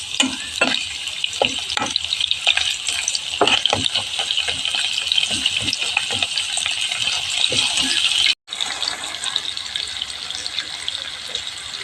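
Onions dropped into hot oil for a red cabbage fry, a loud, steady close-up sizzle with scattered stirring clicks and a brief cut partway through.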